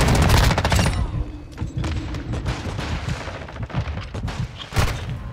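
Rapid automatic gunfire in the video game Modern Warfare 2, loud bursts and scattered shots crackling continuously with thumps throughout a busy firefight.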